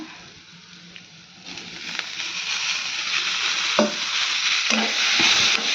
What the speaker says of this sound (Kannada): ಇದ್ರೊಳಗೆ ನಾನು ಕಟ್ ಮಾಡಿರೋ ಟಮಾಟನ ಹಾಕೋತೀನಿ